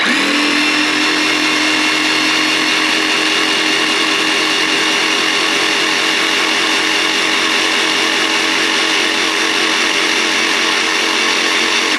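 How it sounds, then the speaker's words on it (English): A DeWalt cordless jigsaw running free without cutting, giving a loud, close, continuous mechanical whine with a steady buzzing rattle that holds unchanged throughout. "let's put a battery on it, let's do a sound test, see how loud it is"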